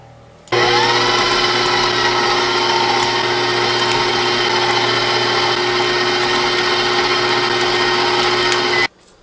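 Electric mixer whipping keto, gluten-free pound cake batter runs at a steady loud whir for about eight seconds, starting and stopping abruptly, close by with no talking.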